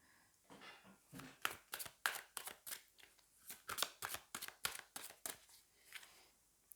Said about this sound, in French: on va aller tirer 3 autres cartes pour voir un petit peu ce qui se passe